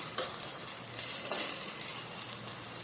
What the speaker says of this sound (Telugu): మగ్గిన తర్వాత 1 స్పూన్ అల్లం వెల్లుల్లిపాయ పేస్ట్, వేసుకొని మళ్ళీ ఒకసారి కలుపుకుందాం